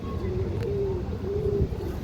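Top-quality Andhra pigeons, sold as breeding pairs, give a low, soft cooing that runs as a steady murmur through a busy, noisy background.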